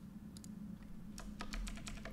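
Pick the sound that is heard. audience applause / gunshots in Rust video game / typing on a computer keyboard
typing on a computer keyboard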